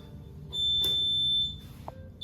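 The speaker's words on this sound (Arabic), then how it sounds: "هو تقريبا ده صوت غسالة خلصت شغل" A single sustained electronic beep from a washing machine's end-of-cycle alert rings out clearly in a student-housing laundry room, followed by a short softer tone, with quiet background hum.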